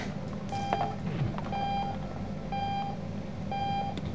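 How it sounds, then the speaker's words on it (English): Alarm clock in the video game Octodad: Dadliest Catch beeping in regular bursts about once a second, each a short run of rapid electronic tones over a low background hum. "Can I break the alarm clock with this?"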